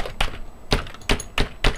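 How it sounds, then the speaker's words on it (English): Several separate keyboard key presses click out at an irregular pace, close and distinct, with quiet gaps between them. "No matter what I press on the keyboard"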